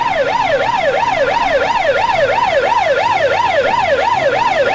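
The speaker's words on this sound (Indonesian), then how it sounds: "ternyata ini mobil pemadam kebakaran" A fire engine's loud, steady wailing siren sweeps up and down in fast, regular cycles, close by and continuous throughout, with faint road noise beneath.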